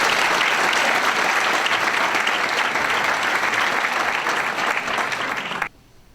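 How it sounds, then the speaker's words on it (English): Sustained loud applause fills a high school champions banquet hall, a dense wash of clapping from many hands that holds steady before cutting off abruptly near the end. "One more round of applause for Mr."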